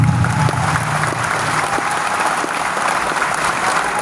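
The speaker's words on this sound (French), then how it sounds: "Je vous demande de l'applaudir très fortement," A large audience claps loudly and continuously at a political speech honoring the president of Niger, a dense, steady roar of applause throughout.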